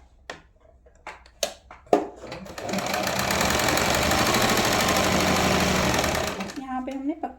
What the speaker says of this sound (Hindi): यहाँ पे हमने पक्की सिलाई लगानी है।